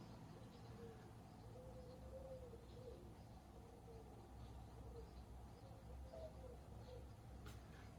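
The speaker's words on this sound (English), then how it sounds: "it's two doves" Two doves cooing outdoors, soft repeated low coos drifting from a distance over a steady faint background hum, with a brief chirp near the end and no talking.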